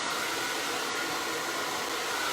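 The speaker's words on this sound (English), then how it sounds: "it's impossible for me to dry my hair without doing it the way I always do it" A hair dryer blows steadily at close range, a loud, even rushing whoosh with no breaks, used for drying curly hair.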